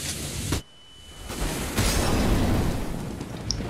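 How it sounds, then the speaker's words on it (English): A flashbang grenade bursts in the game CS:GO, a loud close bang followed by a brief dip and a sustained ringing roar of noise. "I'm throwing a flashbang!"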